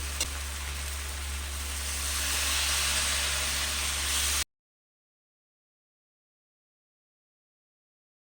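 Water poured into a hot pan of vegetable chhakka curry, giving a steady loud hiss and bubbling that swells slightly, then cuts off abruptly into silence halfway through.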